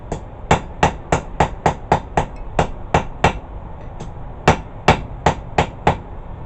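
Repeated ringing hammer blows on metal while forging an herb chopper, a fast steady rhythm of sharp strikes with a brief pause midway before resuming, close and loud.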